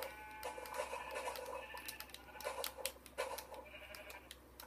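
Sheep bleating in Minecraft, a couple of them, giving short repeated bleats over a steady low background hum, with no speech.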